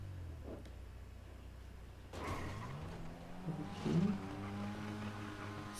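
A small car's engine in a video game parkour map revs and rises in pitch after a quiet start, a steady synthetic drone that climbs and holds, with a brief louder burst near the end.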